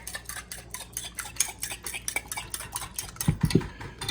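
Six eggs and melted butter are whisked in a bowl, giving a fast, rhythmic series of clinking metal strokes against the sides, close and moderately loud, with a few heavier knocks near the end.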